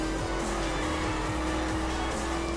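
Powerful cars driven over dirt in the racing game The Crew, their engines droning steadily with a shifting pitch, close and continuous, with no talk.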